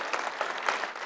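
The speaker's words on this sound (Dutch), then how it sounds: "Een applaus voor de kandidaten van vanavond." Brief burst of audience applause for the evening's candidates at a student election debate at a university, a soft wash of many hands clapping, faint and continuous.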